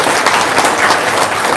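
A roomful of people at an Indonesian gathering breaks into brief, loud, dense applause, a continuous clatter of many hands close by with no talk over it.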